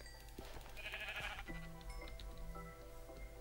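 Sheep in the Minecraft video game bleat in a few wavering calls, heard alone over a steady, dense game background with no speech.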